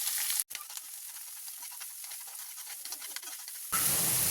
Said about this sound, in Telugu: ఆవాలు, జీలకర్ర, సన్నగా కట్ చేసి పెట్టుకున్న ఆనియన్, కరివేపాకు, గ్రీన్ చిల్లీ ఇవన్నీ ఒకసారి బాగా ఫ్రై చేసుకుందామండి